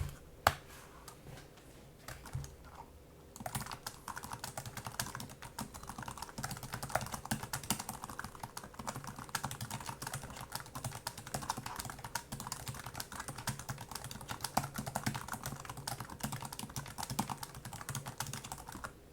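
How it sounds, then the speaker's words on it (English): Rapid, continuous clicking of ThinkPad laptop keys being typed on, steady and close, with a faint background hum and no voices. "I just did a keyboard test"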